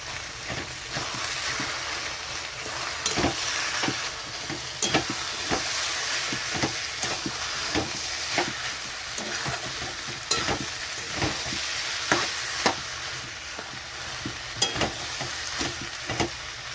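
Egg yolks sizzle steadily in a hot pan while a spatula scrapes and stirs in frequent, sharp knocks, close and fairly loud, with no voices.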